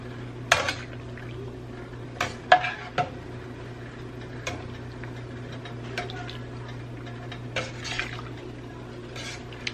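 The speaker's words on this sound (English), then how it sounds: "let's give this a good stir." A seafood boil gets stirred in a pot, with sharp scattered clinks and scrapes of the spoon against the metal over a low steady hum, a few louder knocks near the start and softer taps later.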